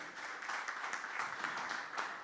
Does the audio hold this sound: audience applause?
yes